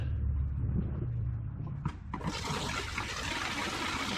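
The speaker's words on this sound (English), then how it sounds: "I'll go ahead and dump this out, and then we'll dump the rinse water in and compare it." Wash water is dumped out of a hand-cranked Wonder Washer, and a sudden loud, steady rush of pouring liquid follows a quieter start with no talking.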